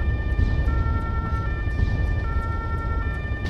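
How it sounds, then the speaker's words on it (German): A vehicle siren in the video game ARMA 3 (Altis Life), a continuous steady wail over a loud engine rumble, close and constant throughout. "Mit Sirene."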